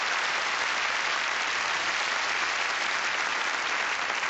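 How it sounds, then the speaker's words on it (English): Steady, dense audience applause for the finalists at the 1984 Mrs. America Pageant, a continuous even wash of many hands clapping at a moderate distance, with no talk over it. "Give them a nice round of applause."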